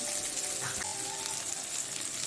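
Chopped garlic and a small onion fry in oil for kalmi shak bhaja, a soft, steady sizzle heard close and fairly quiet over a short stretch.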